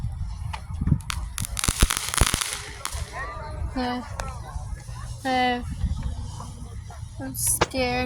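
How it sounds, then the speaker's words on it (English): Fourth of July fireworks crackle and burst in a dense cluster of sharp pops early on, followed by scattered bangs, with people talking and exclaiming throughout. "Okay, another firework."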